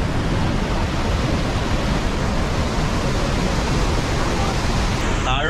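Muddy monsoon water roars over Athirappilly waterfall in Kerala, a loud, steady, broadband rush heard from a viewpoint with no break in the torrent.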